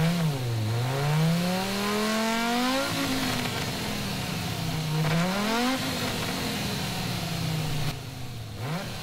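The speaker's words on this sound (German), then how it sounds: "bevor gleich der Real Engine Sound kommt" A race car engine in GT Sport revs hard, climbing in pitch through several gear shifts with a short dip at each change. The roar stays loud and close the whole time.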